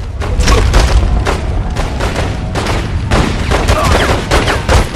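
Repeated shotgun blasts and booming gunfire in The Godfather 2 video game, loud and dense with heavy low-end thumps following one another rapidly across the whole stretch, a few faint voice fragments mixed in.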